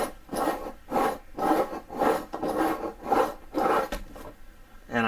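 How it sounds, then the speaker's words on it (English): A knife sharpener draws across a blade edge in rhythmic, raspy strokes, about eight passes. Each stroke is a close, gritty scrape with short pauses between. "I can feel a little bit of it sharpening that edge up"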